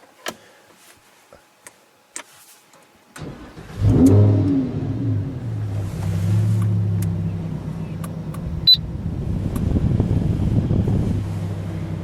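A few faint clicks, then the V10 engine of a matte grey 2015 Lamborghini Huracan LP 610-4 cranks and roars to life with a loud rev before settling into a throaty, steady idle.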